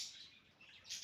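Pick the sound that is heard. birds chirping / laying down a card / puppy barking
birds chirping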